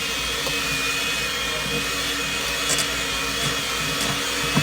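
An electric mixer with beaters runs continuously during Christmas main-dish cooking, a steady droning whir with faint clinks against the bowl, close and fairly loud throughout with no talk.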